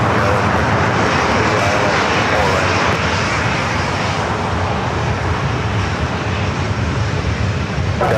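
A Singapore Airlines airliner takes off from the south side at LAX, its engines producing a loud, steady, broadband roar that fills the whole stretch without letup.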